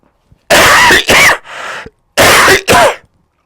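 A loud, harsh coughing fit up close: two sharp coughs, a wheezy breath, then two more forceful coughs.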